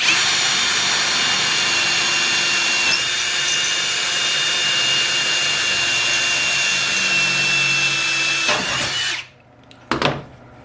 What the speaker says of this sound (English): So now we got to drill the holes. And we'll just use our Ryobi.